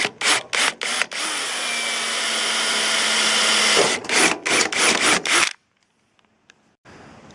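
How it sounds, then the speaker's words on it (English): A power drill boring rivet holes through a gutter in short bursts, then one long sustained whine of several seconds, then more quick bursts before stopping into near silence. "I'm going to start by just drilling the holes out from the top end"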